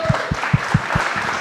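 Rhythmic clapping at a church service: a few loud, evenly spaced claps ring out over a softer bed of crowd applause.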